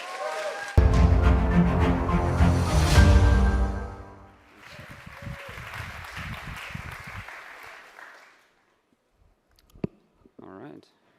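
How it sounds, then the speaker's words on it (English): A conference crowd at React Advanced 2024 breaks into loud, sustained applause for a speaker, with dense clapping and cheering that fades into scattered claps, footsteps and clicks as the room quiets. "can we give a massive 10 out of 10 round of applause to Dominic?"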